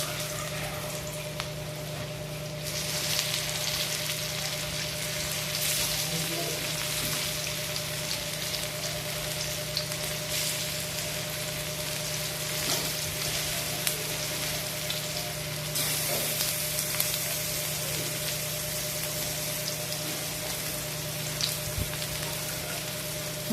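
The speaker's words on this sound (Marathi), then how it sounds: "मंद आचेवरती वडी तळून घेऊ आपण।" Alu vadi, colocasia leaf rolls, shallow-frying on a tawa in a few spoonfuls of hot oil over low flame, giving a steady, soft sizzle with faint crackles throughout, alone and without talk.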